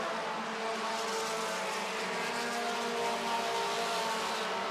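Four-cylinder stock race cars roar down the front straightaway during a feature race, a steady, dense engine drone holding at constant loudness without a break and with no voices.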